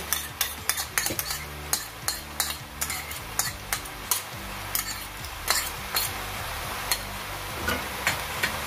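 A utensil stirring egg and macaroni in a pan with tomato and chili sauce, repeated scraping clinks in an irregular rhythm over a soft sizzle, close and alone with no talk.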